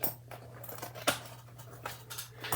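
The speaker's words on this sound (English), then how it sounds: "Let's just use some scissors." Scissors cutting paper for a Bible study binder: a quick series of close, crisp snips and rustles, one sharper cut standing out, over a faint steady hum, with no talking.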